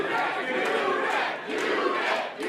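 A wrestling crowd cheering during a tornado tag team match, a dense, loud and steady roar of many voices that swells and dips slightly throughout.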